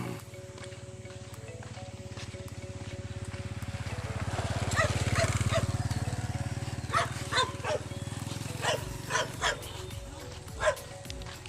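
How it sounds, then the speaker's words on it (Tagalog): Dog barking outdoors at a nature-themed photoshoot, several short barks at a middle distance in the second half, over a steady low background hum with faint voices. "ingay ng aso"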